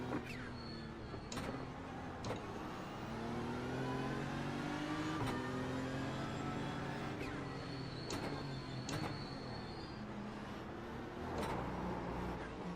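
Several race cars in a racing video game accelerate together at the green flag, layered engine whines climbing and shifting in pitch over repeated sharp clicks, steady and fairly loud.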